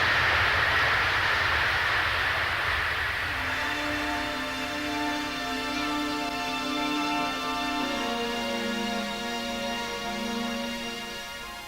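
Aircraft at Kennedy Airport in winter: a jet engine roars loud and near at first, then settles into a steady, tonal whine and hum as it idles or taxis, with no talking.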